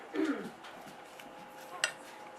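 A utensil stirring scrambled eggs in a pan, with a soft scrape near the start, faint quiet mixing after it and one sharp metallic tick of the utensil against the pan near the end. The sound stays close and low in a quiet kitchen.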